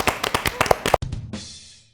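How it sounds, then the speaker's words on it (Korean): A short burst of studio applause welcoming a guest on a Korean stock-market show, a handful of sharp claps close by for about a second, followed by a brief thump and a fading hiss. "박수로 한번 환영해 드리시죠"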